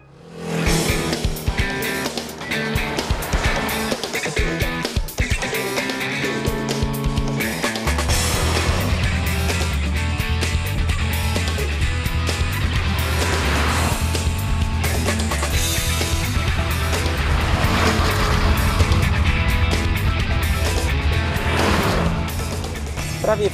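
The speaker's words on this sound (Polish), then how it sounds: "Przy wyższych obrotach słychać pompującą turbinę." A turbocharged four-cylinder Ford Focus ST engine revs hard and loud, with a sharp burst at first, then a sustained drone climbing through higher revs with audible turbo pumping, no speech over it.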